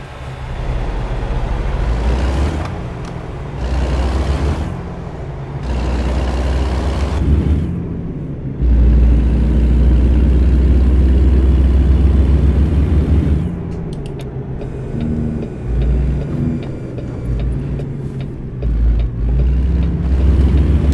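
A Cat truck engine in American Truck Simulator revs up and down in long sustained surges with brief gaps, loud and close, with no talking.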